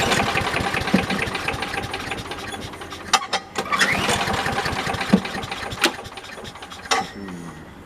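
Small engine on a Craftsman leaf vac chipper, run at full throttle, keeps up a rough, steady roar with sharp clattering spikes and brief dips as it labors unevenly.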